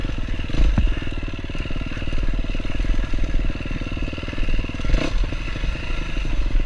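A new motorcycle is ridden on a private riding course: a loud, close, steady engine drone with rising and falling revs, joined by a few brief clattering knocks.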